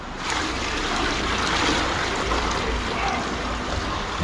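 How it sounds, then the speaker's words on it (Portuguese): Water being poured out of a glass fish container holding small fish, a steady rushing, trickling splash that runs continuously at close range, with no talking. "Vamos jogar água fora?"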